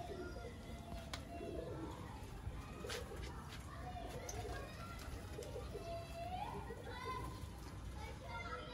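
An old Sialkoti pigeon, about 13 to 14 years old, coos in soft low repeated calls amid background chatter, children playing and other birds chirping.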